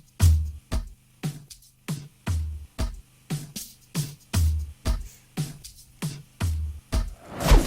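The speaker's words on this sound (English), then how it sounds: "the number one thing we'll be looking at is the top loop that we have here that sounds like this basically." A drum top loop from a beat repeats in a steady, even rhythm of crisp percussive hits with a low thump under some strikes. The hits run continuously for several bars with no voices.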